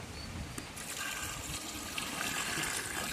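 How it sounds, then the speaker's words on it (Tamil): Water trickles and splashes as it is poured from a small pot into rice for a village-style chicken biryani, a faint, close pouring with light spatters. "இப்போ தண்ணி ஊற்றுற சொம்பால் இப்போ வந்து 8 சொம்பு தண்ணி ஊற்றுறோம்"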